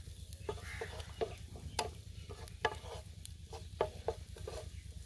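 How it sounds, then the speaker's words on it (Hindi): Chopped garlic frying in oil in a pan gives a low, steady sizzle under a string of sharp clicks and scrapes of a utensil stirring it. "लहसुन को थोड़ी देर के लिए फ्राई कर लेंगे।"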